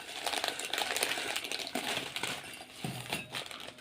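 Crinkly rustling of an instant noodle packet and its seasoning sachet being handled close up, steady papery crackles with small clinks over about four seconds, no talking.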